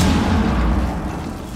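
A bomb goes off in an Xbox video game, a loud, sustained low rumbling boom that fills the whole moment and slowly tapers without fading out.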